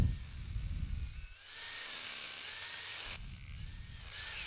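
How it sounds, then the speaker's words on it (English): A loud, high-pitched hammer drill whine drilling into a concrete garage foundation runs steadily for several seconds, briefly cutting out, after an opening burst of rough grinding noise. "And now I can hammer drill it without having to fight it."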